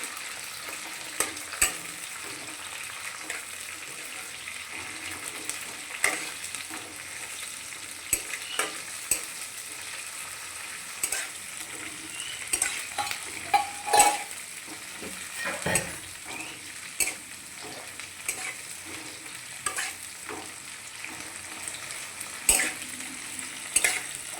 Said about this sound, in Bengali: এখন সেটাই তো কালো জিরে দিল, এখন পেঁয়াজ আর লঙ্কাটা দিয়ে দেবো। আমি একটু নাড়িয়ে দিই মাকে।